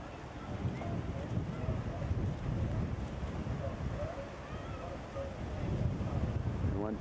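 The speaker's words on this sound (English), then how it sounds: "paddle wheel coming back up the Canberra, coming back up the river" A paddle wheel boat churns up a river, a broad rushing wash of water and engine noise mixed with wind buffeting the microphone, steady and close throughout.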